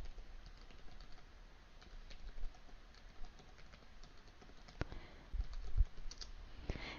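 Typing on a computer keyboard while addressing an email in Outlook, with quiet, irregular key clicks close by and a few sharper taps toward the end.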